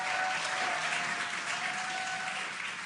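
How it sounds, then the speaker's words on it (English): A crowd gathered for a Dragon capsule splashdown off the Florida coast cheers and applauds in a steady, dense wash of clapping heard from a distance, with no voices standing out. "You can hear the crowd here."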